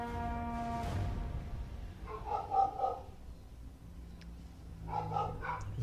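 Dogs barking in the strategy game Total War: Warhammer 2, a few short bursts of yapping in two clusters over a low game soundscape, fairly faint and with no talk.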